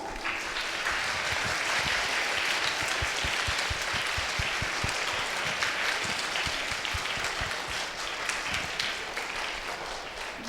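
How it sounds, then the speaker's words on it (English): Audience applause at a primary school maths competition, steady and dense clapping from a crowd that holds loud throughout without a break. "Give them a huge round of applause."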